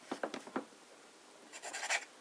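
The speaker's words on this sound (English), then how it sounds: "I'll grab a pen and then I will write on this copier paper." A pen writes with Lamy Green ink on copier paper: soft, quiet scratchy strokes in a short burst, a pause, then another cluster of faint scribbling, close up.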